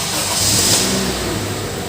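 A Honda Brio's engine turns over and catches, a steady broadband mechanical roar with a low rumble that holds fairly loud and close for its brief span, no voices.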